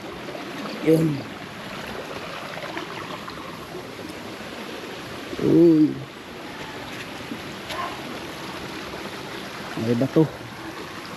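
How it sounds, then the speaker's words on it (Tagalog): A small stream swollen by rain flows steadily with a soft, continuous rushing and trickling wash, while a voice briefly speaks over it a few times. "Kasi umuulan na guys, marami na dito ay tubig na guys."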